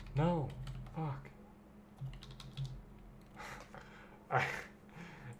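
Soft, rapid keystrokes on a computer keyboard over a low hum, broken by short vocal sounds near the start and middle.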